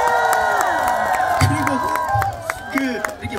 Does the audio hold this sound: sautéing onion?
no